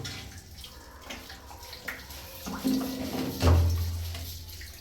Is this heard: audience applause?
no